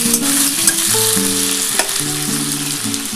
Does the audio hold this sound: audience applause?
no